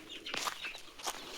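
Several country chickens with health problems cluck and squawk softly at close range in a shed, short bursts overlapping in a quiet enclosed space.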